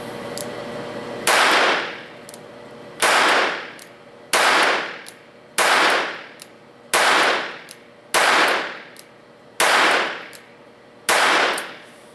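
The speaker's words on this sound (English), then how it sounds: "I'm going to try to shoot a little faster in terms of my shot cadence" Ruger LCR .22 revolver fired in rapid succession at a target, eight sharp, loud reports spaced roughly one to one and a half seconds apart, each ringing out briefly with no talking.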